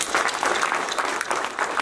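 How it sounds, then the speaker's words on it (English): Steady crowd clapping at a polytechnic graduation ceremony, brief and fairly loud with a dense, even texture. "we need a clap for that"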